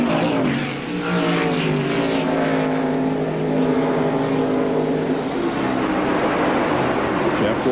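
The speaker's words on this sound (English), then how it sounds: "Boy, he has a fast race car." A NASCAR Winston Cup race car, driven in the 1997 race at Watkins Glen, roars past on the road course between turns 9 and 10. Its loud, sustained engine drone holds steady throughout, with a race commentator talking over it.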